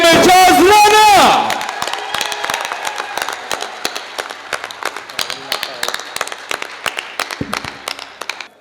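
Sparse, scattered clapping from an audience at a comedy stage contest greeting an arriving judge, following a brief loud burst of music, with the claps thinning out into irregular individual hand claps.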